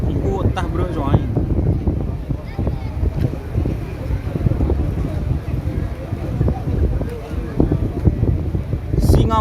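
Strong wind buffeting the microphone at an outdoor bull race event in Sampang, a constant roaring rumble throughout, with people talking underneath.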